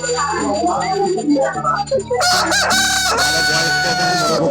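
Roosters crow loudly at a desi chicken market, long drawn-out calls overlapping with clucking fowl and a busy background of market noise.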